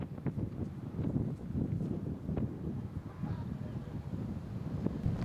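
Wind buffets the microphone on an outdoor disc golf course during a charity open tournament, a steady rumbling roar that rises and falls in gusts.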